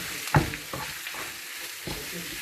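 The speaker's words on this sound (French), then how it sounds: "Donc, je vais mélanger ça." A chicken filling with ground pepper being stirred in a bowl, with a sharp scrape or knock near the start followed by softer intermittent mixing scrapes, close and fairly quiet, no voices.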